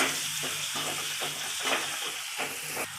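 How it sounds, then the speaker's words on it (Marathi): Steady frying sizzle with soft stirring scrapes as onions fry in a pan, close up and continuous, no talking. "कांदा चांगला भाजून घ्यायचा आहे"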